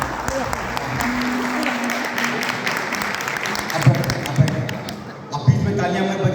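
Audience applause at a university cultural program, a lively crowd patter of clapping heard under a speaking voice, with a few heavier thumps and a brief lull near the end.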